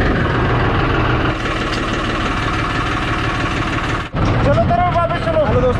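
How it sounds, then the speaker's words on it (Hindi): A tractor engine idles loudly and close, a steady mechanical chug with a brief dip near the end, while a person speaks over it. "ट्रैक्टर लेकर चलते हैं सीधा भूस लेने।"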